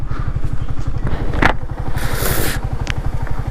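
A vehicle engine ticking over slowly on a road near Anjuruli Tunnel in Kerala, a steady low putter of regular pulses with a brief clatter and hiss passing over it partway through.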